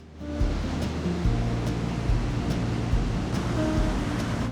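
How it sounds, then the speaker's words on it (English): Wild ocean surf crashes at San Gregorio State Beach below the cliffs on the California coast, a loud, continuous roar of breaking waves and rushing water that swells in after a brief quiet start. "And the surf is wild."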